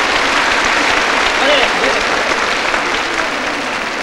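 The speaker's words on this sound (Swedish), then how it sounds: "Frank Andersson, gärna stor applåd. Kom igen, tack." Loud, dense applause from an arena crowd greeting a wrestler's introduction at a staged match, a steady unbroken roar of clapping that holds at full strength throughout.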